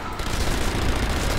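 In the Sniper Elite Nazi Zombie Army video game, a Thompson submachine gun fires a dense, rapid burst at close range, loud and continuous for the whole moment.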